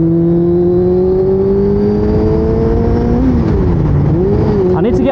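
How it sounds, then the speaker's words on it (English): A motorcycle accelerates on a ride home, its engine note rising steadily and then dropping as it upshifts, loud and close with steady wind and road roar underneath and no voices. "you can hear it in the bike when I upshift"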